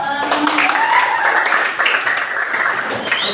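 Classroom applause from students during a lesson, a lively burst of many hands clapping close by, with a voice speaking over the claps.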